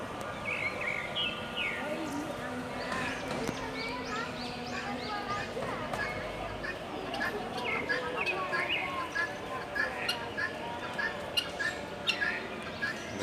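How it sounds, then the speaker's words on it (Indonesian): A cockatoo in a zoo aviary dome in Bandung gives shrill, repeated squawks among other chirping birds, moderately near, with people talking throughout. "Namanya kakak tua."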